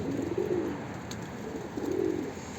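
Pigeons coo softly nearby, two low, throaty, rolling calls separated by a short pause, with faint outdoor background noise.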